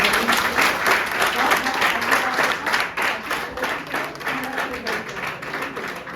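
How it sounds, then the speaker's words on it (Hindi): Dense applause from a crowd, steady and loud for several seconds before easing slightly toward the end. "चलो जोरदार ताली।"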